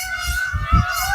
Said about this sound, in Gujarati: જોઈ લો મોરલા કેવા બોલે છે